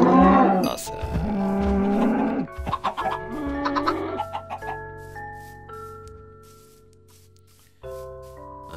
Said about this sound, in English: Chicken farm, cow farm.